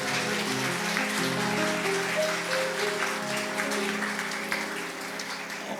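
An audience applauds steadily at a book concert celebrating a welfare center's 25th anniversary, with soft tonal sounds underneath and the clapping easing slightly toward the end.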